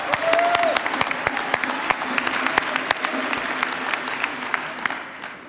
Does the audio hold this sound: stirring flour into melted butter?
no